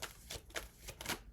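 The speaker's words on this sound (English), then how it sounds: "I am trying to shuffle" Tarot cards being shuffled by hand in short bursts of papery riffling and slapping, several quick rounds close up and fairly quiet, with no talking.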